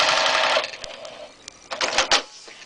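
Sewing machine with a hexagon quilting foot stitching short practice rows, a busy mechanical whirr in bursts with small clicks and pauses between runs.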